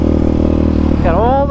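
A Yamaha Raptor 700 ATV pulling hard in second gear, a steady low engine drone close by with a rising whine near the end as it accelerates; someone talks over it.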